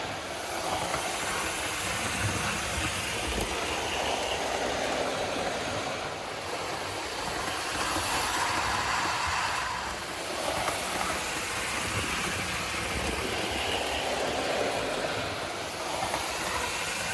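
A model train rumbles steadily along the track with a continuous whirring hiss and rattle, fairly close, with no talking.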